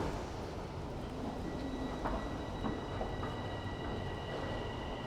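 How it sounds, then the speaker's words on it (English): A train rumbling steadily through Davisville subway station in Toronto during wet snowfall, with a continuous low roar, faint high-pitched wheel squeal and occasional clanks. "Indeed. There goes my train."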